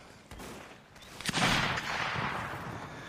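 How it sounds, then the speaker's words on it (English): Explosions and gunfire ring out across a Mount & Blade North & South line battle, a dense fusillade of overlapping musket shots with a sharp loud blast building into sustained rumbling fire, no voices. "Oh, listen to those explosions."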